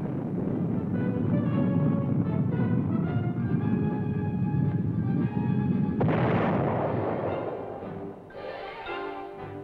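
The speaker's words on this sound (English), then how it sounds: "The firing of an Honest John missile is a dramatic highlight." An Honest John military missile fires. A deep, sustained roaring rumble builds, then breaks into a sharp, loud blast with a crackling rush that fades into a lingering roar.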